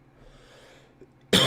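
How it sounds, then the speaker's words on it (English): One sudden, loud cough bursts out near the end after a stretch of quiet room hum. "had to cough that one out"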